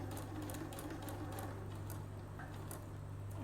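A sewing machine stitches fabric at a slow, steady pace, a continuous low mechanical hum with a soft repeating needle tap, quiet and close.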